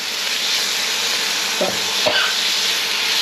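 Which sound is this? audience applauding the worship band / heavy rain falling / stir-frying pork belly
stir-frying pork belly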